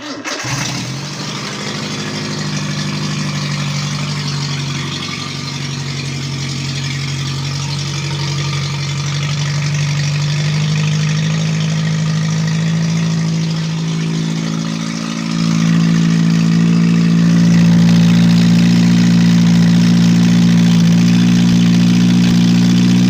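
Small engine of a homemade tracked mini tractor cranks and catches, then runs steadily near and loud, its idle rising to a higher, stronger hum after about fifteen seconds.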